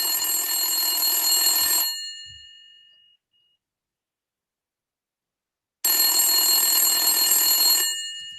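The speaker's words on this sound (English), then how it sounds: "Then you receive another phone call after a few hours." A telephone rings for an incoming call in two loud, bright bursts of about two seconds each, separated by a few seconds of silence.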